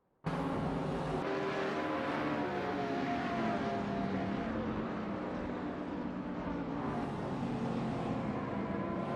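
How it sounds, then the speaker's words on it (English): In an AI-controlled racing simulator game, race car engines roar loud and continuous right from the start, the revving pitch shifting as the cars race, with no voices. "We're currently watching a racing simulator where artificial intelligence is controlling the cars"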